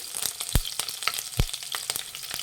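Green chillies and curry leaves fry in hot oil, making a soft, continuous sizzle broken by a few sharp spatters and stirring clinks, close up and fairly quiet.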